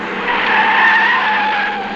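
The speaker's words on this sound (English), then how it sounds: "Oh, a car!" A cartoon car skidding with tires squealing, a loud, close screech that swells and then eases over about two seconds, with no voices over it.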